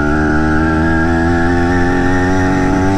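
A BT100 motorized bicycle engine runs steadily, close and loud, a continuous buzzing two-stroke drone with strong harmonics and an even, unchanging pace, with no talking.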